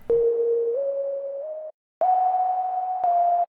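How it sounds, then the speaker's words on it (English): A clean, unprocessed synthetic whistle tone in FL Studio holds steady notes that step upward slightly, cutting off briefly before resuming at a higher pitch; dry and close. "So this isn't going to be a recorded whistle, instead this is going to be a synthesized one."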